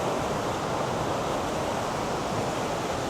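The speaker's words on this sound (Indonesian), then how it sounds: "Sebelum sana ngelewatin sungai ini arusnya cukup deras ya." A fast-flowing river runs past a campsite, its strong current producing a steady, loud broadband rush with no breaks, and no one speaking.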